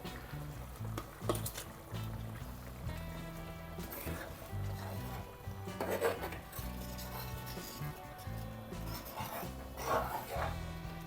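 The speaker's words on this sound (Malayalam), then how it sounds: "ഇതിനകത്ത് ഈ ചെമ്മീനില്ലേ, ചെമ്മീൻ ഇട്ട് കൊടുക്കാം." Prawns stirred into a simmering prawn theeyal curry in a pan, with soft steady sizzling and scraping stir noises under occasional clinks, close and moderately quiet.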